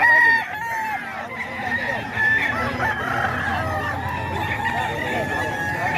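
A yard of Thompson White gamecocks fills the air with continuous, overlapping rooster crows and clucks, loud and near, the calls rising and falling one after another without pause.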